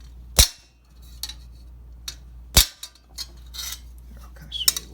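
Sharp hammer blows on a chisel roping the rolled edge of an old steel close helmet, two loud ringing strikes and several lighter taps, irregularly spaced one hit at a time, close by.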